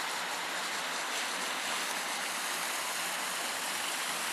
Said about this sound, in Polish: Rzeka numer jeden płynie sobie, płynie.